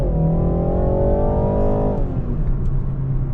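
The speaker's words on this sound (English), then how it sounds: "Here's an uphill acceleration." A 2020 BMW 330i accelerates uphill. Engine tone climbs steadily as revs rise, then drops sharply as it shifts up and settles into a lower drone. The sound is loud and continuous, heard from inside the car.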